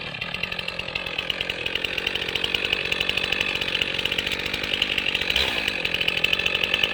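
A chainsaw runs loud and close while its bar tip bores down through the hinge of a tree being felled, a steady buzzing drone that holds throughout with slight shifts in load.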